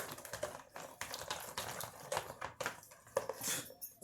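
Eggs cracked one after another straight into a baking dish of crustless blueberry pie batter, no bowl, giving sharp, close clicks and taps with light clattering of dishes between them.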